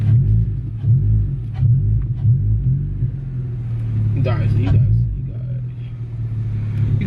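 The intake of an Si car on a street pull gives a deep, loud rumble that swells and eases under load, with a brief voice over the engine partway through.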